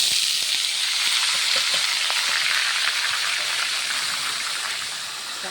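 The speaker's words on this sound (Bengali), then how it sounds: "তেলটা একটু গরম হলে ভুঁড়িগুলো ঢেলে দেবো" Goat tripe frying in hot mustard oil in a kadai, a steady dense sizzle that fills the whole clip at close range, easing slightly toward the end, with no talking.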